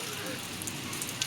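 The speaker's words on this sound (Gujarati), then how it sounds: "વરસાદ પણ પાછો ચાલુ થઈ ગયો છે મસ્તીનો" Steady rain pouring down outside in dark, overcast weather, a dense even hiss with occasional sharper drops, moderately close and uninterrupted.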